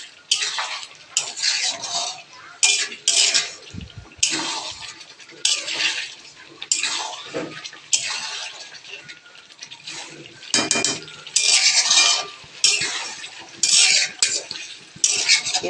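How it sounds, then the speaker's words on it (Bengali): Chicken stir-fried in a pan for a homemade kurma, a spatula scraping and stirring in repeated close, rhythmic strokes over a low sizzle, continuing steadily throughout. "এখন আবার চিকেন দিয়ে ভালোভাবে কষাতে হবে।"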